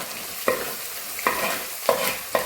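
Ginger, green chili and chopped garlic fry in a pan under a constant low sizzle. Four distinct scraping stirs of a spoon come at uneven intervals, and no one speaks.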